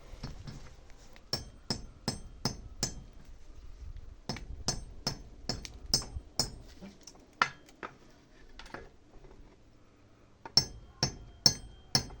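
An axe head used as a hammer drives a nail, giving sharp, close metallic blows in quick bursts of four to six strikes with short pauses between the sets.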